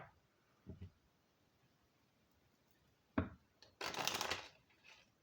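A Rock and Roll Tarot card deck is shuffled in short bursts, a brief riffle early on, a sharp snap, then a longer papery flutter near the end in a quiet room.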